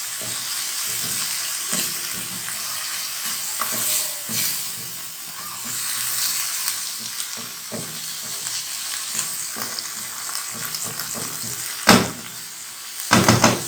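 Chana dal and minced keema sizzle in a hot pan over high flame, frying steadily while being stirred, with scraping clinks and a sharper clatter near the end.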